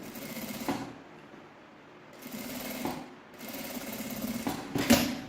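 A sewing machine stitching a fabric shoulder-bag strap runs in three short bursts separated by pauses, with a steady mechanical whir and a faint rhythmic knocking at close range.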